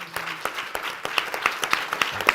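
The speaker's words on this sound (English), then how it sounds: "let's give this panel an entire round of applause." A round of applause for a panel at the Elizabeth Dole Foundation's national convening, a moderate crowd of hands clapping with distinct individual claps over a soft steady wash, somewhat distant.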